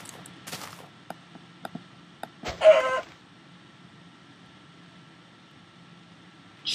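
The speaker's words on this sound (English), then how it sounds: "Chickens." Minecraft chickens cluck in a few short, faint blips over a quiet game backdrop, with one louder burst of clucking near the middle and another at the very end.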